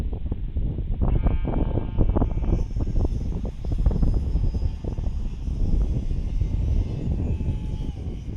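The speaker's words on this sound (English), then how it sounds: "Planes all over the place." F5J electric model gliders fly at a contest at Trnava, Slovakia, where tractors are kicking up dust. A continuous whirring drone with faint tonal whines hangs at a steady level over the field, and no one is talking.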